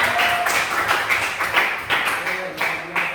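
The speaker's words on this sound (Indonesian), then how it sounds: "Beri tepuk tangan." A classroom group claps after a poem about forgiveness, a quick burst of uneven hand claps with small rhythmic pulses, close and moderately loud, with faint voices mixed in.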